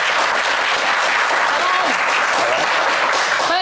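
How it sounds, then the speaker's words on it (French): Dense, loud applause and cheering from a TV game show studio audience fills the whole stretch without a break. "qu'on va applaudir très très fort"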